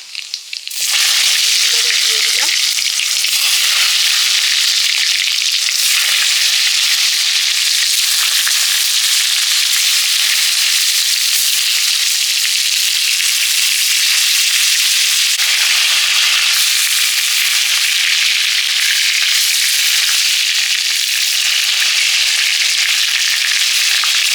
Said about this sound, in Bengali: কড়াইতে তেল দিয়ে দিয়েছি পটলগুলো ভেজে নেব